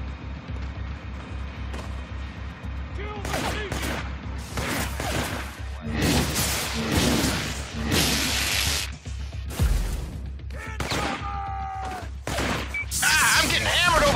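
Heavy gunfire and explosive blasts in the video game inFAMOUS 2, a dense, loud barrage of bursts, crashes and whooshes over a constant low rumble, with voices shouting in between.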